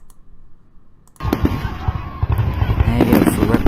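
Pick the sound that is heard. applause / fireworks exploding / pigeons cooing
fireworks exploding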